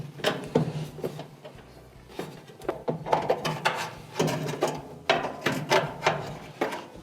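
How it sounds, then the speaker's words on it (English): A screw holding a dryer thermistor being unscrewed, giving quiet ratcheting clicks and small metallic scrapes in irregular bursts, close up and faint. "We have 2 screws also holding on the thermistor. So take out the one on the top"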